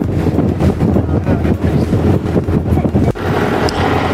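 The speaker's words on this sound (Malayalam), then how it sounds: "നമ്മുടെ ബോട്ട് നല്ല തിരയൊക്കെ അടിച്ച് തെറിപ്പിച്ച് സാൻഡ് ബാങ്കിലോട്ട് പോയിക്കൊണ്ടിരിക്കുകയാണ്" A boat crosses open sea toward a sand bank, hull slapping and splashing through waves, heavy rushing wind and water noise filling the scene steadily and close, with no talking.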